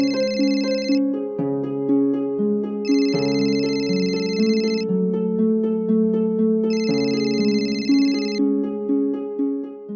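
A telephone rings with an incoming call, a melodic electronic ringtone repeating in bursts with a bright trilling phrase every few seconds, loud and clear with no talking.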